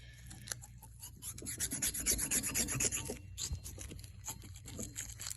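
A small brush scrubs wax out of the oil holes of a new Rootes 1725 cc crankshaft for a Sunbeam Alpine, a close, steady rasping rub that works back and forth in uneven strokes with no talk.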